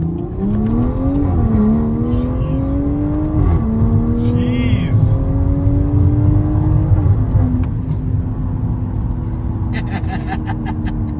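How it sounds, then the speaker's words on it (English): A BMW 340i engine revs hard and loud up close, its pitch climbing and dropping back through several quick shifts of its 8-speed ZF gearbox. "And the car just starts going like a bomb after that."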